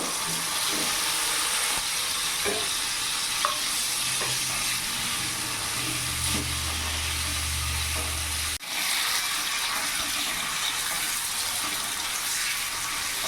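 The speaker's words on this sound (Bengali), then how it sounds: "পনিরের পিসগুলো দিয়ে হালকা শ্যালো ফ্রাই করে নেব" Pieces of paneer shallow fry in a pan with a steady, close sizzle that runs throughout, a low rumble in the middle and a short clatter partway through.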